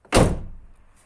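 The door of a Pontiac Firebird Trans Am shuts once with a single solid, close thunk that fades quickly.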